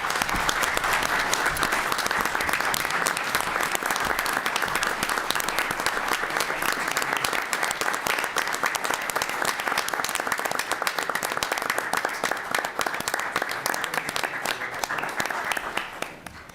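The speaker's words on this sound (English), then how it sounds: "So round of applause." Audience applause at a Portsmouth city council meeting, dense sustained clapping from a room full of people that holds steady for a long stretch and then tapers off at the end.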